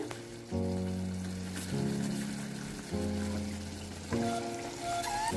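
Steady sizzling of chicken frying in a pan for chicken gravy, with a continuous crackle and a low sustained tone underneath, no voices.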